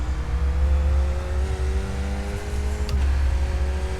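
A Skip Barber race car in the iRacing game at Summit Point runs at full throttle, its engine a loud, steady buzzing drone whose pitch rises gradually and then drops briefly with a gear change before climbing again.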